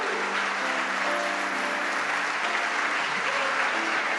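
Church congregation applauding at a Portuguese-language service, a steady, dense wash of clapping filling the whole stretch at even loudness with no voice on top.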